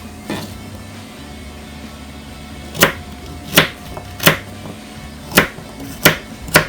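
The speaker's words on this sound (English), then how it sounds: "So you can cut it to whatever thickness you like." A knife chops carrots on a cutting board for chicken foot soup, with crisp separate thunks: one early, then a steady run of six chops close by and with no talking.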